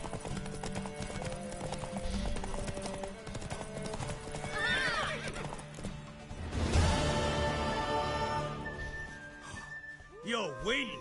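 Horse from The Witcher 3 clip-clopping and whinnying, a sharp neigh near the end, with game music and speaking voices layered on top.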